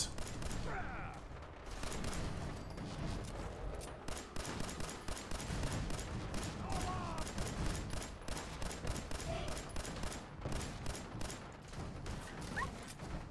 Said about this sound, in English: Stop shooting me, you asshole!